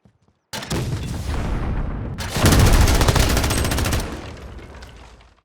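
Loud bursts of gunfire from new weapons in the video game Call of Duty Modern Warfare, including a lever-action sniper rifle and an MG34 machine gun, firing in dense sustained volleys that swell louder midway before easing off.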